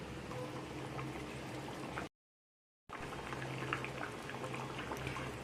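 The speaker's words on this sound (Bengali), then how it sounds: "তো ঝোলটাকে আমি এখন 5 মিনিট ভালো করে ফুটিয়ে নেব, যাতে আলুগুলো ভালো করে সেদ্ধ হয়ে যায়" Potato and fish curry broth for aloo bata macher jhol bubbling steadily in a pan, a soft continuous simmer with faint pops, broken by a brief gap of silence partway through.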